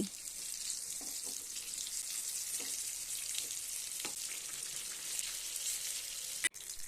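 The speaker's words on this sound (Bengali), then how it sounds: "বেগুনগুলিকে মিডিয়াম ফ্লেমে 2 থেকে 3 মিনিট ভাজার পর উল্টে অপর পিঠটিকেও 1 থেকে 2 মিনিট ভেজে নিতে হবে" Eggplant slices frying in oil in a pan over medium flame give a steady close hiss of sizzling with scattered tiny pops and crackles, continuous throughout and ending with a brief clatter; no one speaks.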